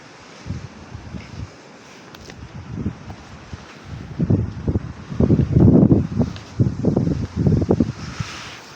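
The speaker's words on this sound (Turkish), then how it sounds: "Rüzgar çıktı yine." Gusty wind blasting against the microphone in rough bursts, starting moderate and growing stronger, with a low rumbling roar.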